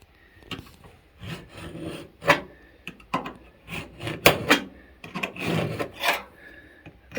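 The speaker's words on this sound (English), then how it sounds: "Scribe that down there" A scribe scratches a cut line onto a Ford Escort Mk1 body panel during crash repair, making a series of close, rasping scraping strokes in short irregular bursts with no talking.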